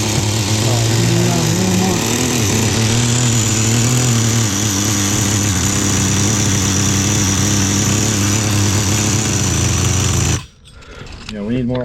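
Small Kyosho Blizzard tracked nitro RC vehicle engine, brand new with high compression, running at a loud buzzing idle close to the microphone, steady with slight wavering, then cutting off abruptly near the end.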